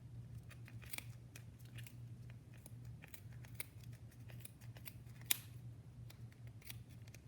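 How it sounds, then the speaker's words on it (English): Scissors snipping through a bundle of yarn while making a pom pom: a quick run of faint, crisp clicks and cuts, close by, over a soft steady background hum. "you're going to cut the yarn right down the center"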